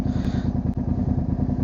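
A Suzuki SV 650 S motorcycle's engine thrums close by in a steady, pulsing idle-to-low rev, a loud rhythmic throb with a brief mechanical click partway through.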